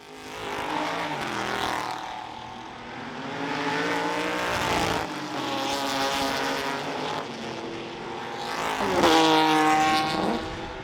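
Jaguar E-Type race cars lapping at the Goodwood Revival, engines roaring past in several loud swelling passes with rising and falling pitch, no talk over them.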